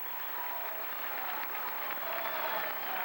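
A large Alabama crowd applauds at Coleman Coliseum during a 1999 SEC gymnastics championship, a dense, steady roar of clapping and cheering that holds loud throughout.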